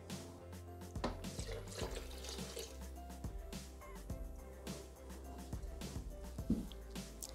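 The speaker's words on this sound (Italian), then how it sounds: "Aggiungiamo adesso il latte." Milk being poured into a Thermomix jug: a faint, close liquid trickle with light drips and small splashes, soft and irregular over a low background hum.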